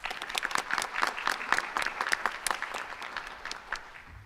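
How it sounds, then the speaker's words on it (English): An audience at a school board of education meeting claps in a dense burst of individual hand claps that gradually thins and fades out over a few seconds. "We should give her a big round of applause."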